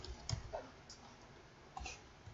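Faint computer keyboard key presses during Photoshop work, a few soft isolated clicks spaced apart over quiet background, the sharpest near the start and another later.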